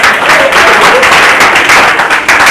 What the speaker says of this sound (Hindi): और तालियां उसके लिए जिसने लिखी हुई हैं